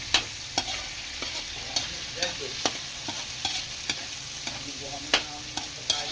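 Garlic fries in a pan with a steady sizzle while a utensil scrapes and stirs in regular clanks, close and clear, with no talking.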